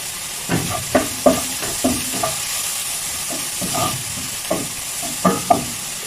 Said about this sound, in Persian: تمام مسالهش را یعنی تفت میدیم.